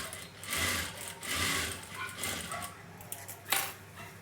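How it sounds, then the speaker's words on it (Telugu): Sewing machine stitching a work blouse, running in short bursts of steady mechanical whirring with brief pauses between them, close and moderately loud, with a sharp click near the end. "ఇలా కుట్టేసుకొని ఇప్పుడు దీని మీద కుట్టు రాని చేసేయండి."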